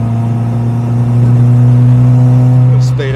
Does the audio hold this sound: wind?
no